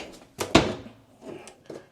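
A deep soft-close kitchen pantry drawer slides and settles, giving a few soft knocks and a muffled thud, then lighter clicks, close and moderately loud.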